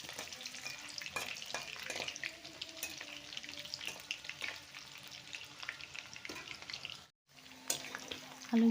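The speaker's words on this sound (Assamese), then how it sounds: "এয়া তেল গৰম হৈছে, এতিয়া আলুকেইটা ফ্ৰাই কৰি লওঁ।" Potatoes fry in hot oil in a home kitchen, a steady close sizzle with occasional stirring clinks and scrapes, broken by a brief pause near the end.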